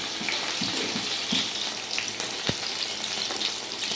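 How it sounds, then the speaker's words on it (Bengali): Chicken 65 pieces fry in hot oil with a steady, dense sizzle and crackle, with occasional stirring clinks and bubbling pops up close and no voices. "ভালো করে আমি 10 মিনিট ধরে লাল লাল করে ভেজে নেব।"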